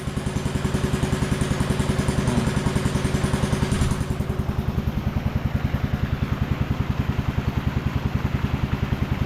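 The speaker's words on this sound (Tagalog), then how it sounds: "ang ganda ng makina ngayon tahimik oh ganda ng takbo" A motorcycle engine idles steadily and evenly throughout, a smooth, regular low chugging with a soft mechanical clatter, close by and moderately loud.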